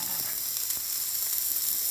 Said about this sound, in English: sizzling sound.